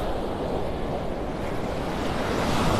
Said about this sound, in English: the waves are getting a little higher now